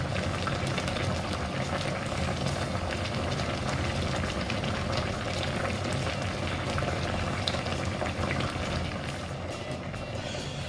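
Congolese wild broth with smoked fish simmering on low heat, a steady, dense bubbling that carries on evenly and fairly loud throughout, with no talking.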